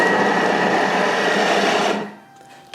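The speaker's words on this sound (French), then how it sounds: "on va maintenant donc ajouter nos champignons entiers dans le Thermomix et les hacher" A Thermomix food processor chops whole mushrooms at speed 5 with a loud, steady whirring drone that runs for about two seconds and then cuts off, leaving a faint hum.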